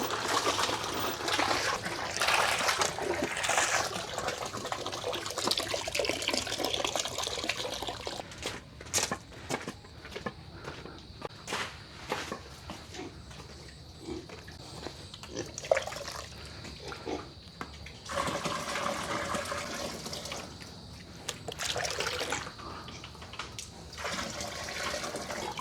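Water gushing from a tap into a container, a continuous hissing rush with uneven surges and splashes that runs for the whole stretch, with faint background noise.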